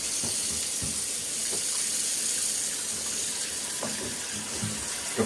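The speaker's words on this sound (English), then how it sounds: "let's add some water" Water running from a tap while preparing shaving lather, a soft continuous splash and trickle with a few light knocks and clatters scattered over it.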